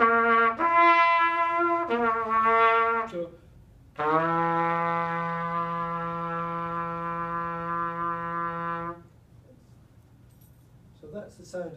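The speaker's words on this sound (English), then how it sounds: "So that's the sound of the trumpet." A trumpet sounds near and clear, first with a few short notes, then one sustained steady note held for about five seconds before stopping.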